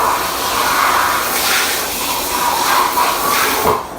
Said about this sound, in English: And then I'm just gonna rinse this out because it had the vinegar in it.